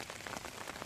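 Heavy rain pours down on a walk toward an art museum, a dense, steady patter that fills the whole brief moment with no voices over it.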